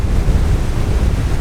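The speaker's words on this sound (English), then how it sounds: "It is quite windy." Strong wind roars and buffets steadily across an open Australian campsite, a loud, continuous gusting rush close to the microphone with no voices.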